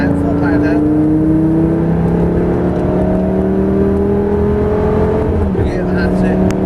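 A Lamborghini Gallardo with E-gear pulls hard on a track at full power, its engine note rising steadily as it accelerates, heard from inside with an instructor talking over it.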